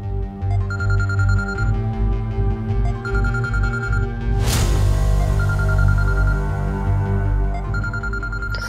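A telephone rings in a tense domestic drama scene, a repeated electronic ring in bursts over a continuous music score, fairly loud and close, with no talk during the ringing.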